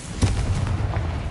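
Spell explosions from the Confringo or Bombarda spells in the Hogwarts Legacy video game: a brief, booming blast with rumbling low-end impacts, heard loud and alone without talking.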